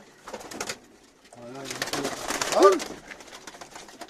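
Pigeons in a coop give soft, close cooing calls, a short burst and then a longer, rolling coo, with rustling around them and no talk.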